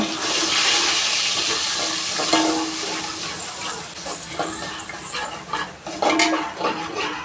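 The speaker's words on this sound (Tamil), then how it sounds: "இஞ்சி பூண்டு பேஸ்ட் நல்லா வதங்குற அளவுக்கு வதக்கி விட்டுக்கோங்க" Ginger garlic paste sautéing in a pan for a Tamil egg kulambu, giving a steady broadband hiss with watery sizzle, loud and close throughout, broken by occasional scraping clinks of a spoon stirring against the pan.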